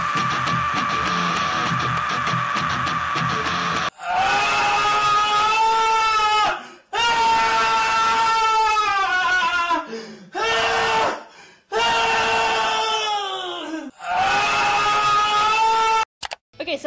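A vocalist imitates Chester Bennington's metal scream from "Given Up". It comes as several long, loud, sustained screamed bursts with short gaps between them, all at close range.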